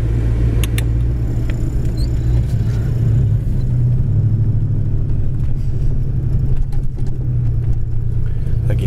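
A 1985 Ford Mustang 5.0 with a five-speed gearbox cruising down the road, its steady low engine drone and road rumble continuous and close, with no talk over it.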